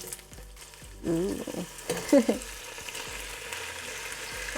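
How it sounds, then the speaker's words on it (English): Bacon dropping into hot oil for carne en su jugo, a Mexican beef dish, crackling and sizzling steadily close by, with a brief sharper burst near the middle and a single short spoken exclamation. "The oil is hot. It's time for the bacon. Just add it in there."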